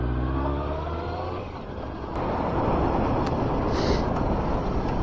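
A motorbike pulls away and rides on an open road, its engine rumbling low then rising into a loud, steady rush of engine and wind noise.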